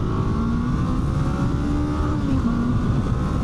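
A 2025 Honda CB500F motorcycle accelerating from a stoplight in first gear, a steady, close engine drone with wind rush building as it pulls away.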